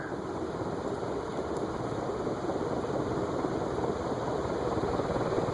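An unidentified ceiling fan of unusual design spins steadily, giving a continuous, even whirring drone with a low motor hum and no voices.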